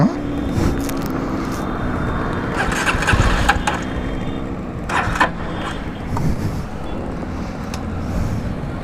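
A Jawa Perak motorcycle engine being started outdoors in wind: repeated cranking bursts and brief sputtering catches that fail to settle into an idle, close and loud over wind noise, with faint voices in the background.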